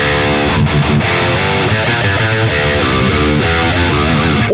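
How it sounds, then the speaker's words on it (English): A heavily distorted electric guitar plays a short riff built on an ABAC repetition, loud and continuous with steady chugging notes and no pauses. "if we take that formula and apply it to our riff, it might sound something like this"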